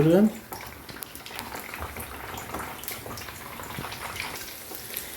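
Eggs cooking in a pan, salted, for a dish of sautéed beet greens, giving a soft continuous bubbling sizzle after a brief voice at the start.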